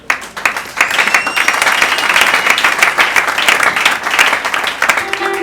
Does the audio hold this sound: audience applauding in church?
yes